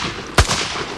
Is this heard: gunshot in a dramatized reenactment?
yes